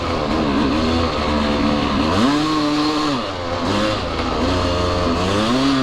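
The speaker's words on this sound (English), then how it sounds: "then I give it gas and it just wants to die" A dirt bike engine, from a ride with a Honda XR400 and KTM 300XC-W, revs up and sags repeatedly as it threatens to stall, its pitch rising and falling in uneven surges, loud and close with no talk.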